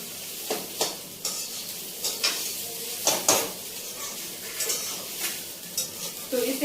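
Poha stirred and fried in a pan, with repeated scraping strokes of a spoon across the metal over a faint sizzle, close and fairly loud with no talking.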